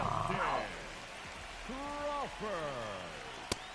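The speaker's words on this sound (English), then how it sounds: "This rain is not letting up" Steady rain hisses through a ballpark in the baseball video game MLB The Show 26, a constant wash of noise running beneath a voice talking over it.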